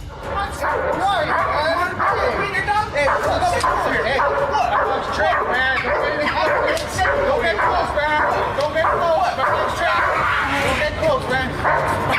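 Dogs bark and yip excitedly and without a break, high and close, with people talking loudly alongside them.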